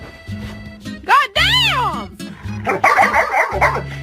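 A dog gives a few odd, strained yips and whimpering bark-like cries, close and loud, mixed with sharp exclamations from a person.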